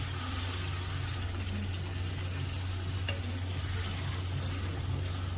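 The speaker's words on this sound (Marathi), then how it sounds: "आता याला मिक्स करून घ्यायचं आहे" Continuous sizzling and scraping as chicken curry is stirred in a hot pan, steady and moderately quiet over a low background hum.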